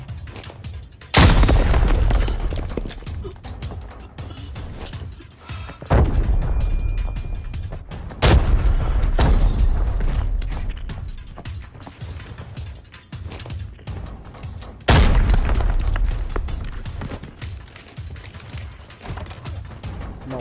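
Grenade explosions in the shooter game Arena Breakout, four heavy booms spaced several seconds apart, each a sudden loud blast that fades into softer clattering game sounds.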